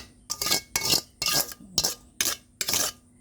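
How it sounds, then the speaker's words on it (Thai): A utensil scrapes shrimp and lime juice around a pan in six rhythmic stir-fry strokes, each one a bright metallic scrape with short quiet gaps between. "เสร็จแล้วแล้วก็กุ้งไปคั่วคั่วคั่ว"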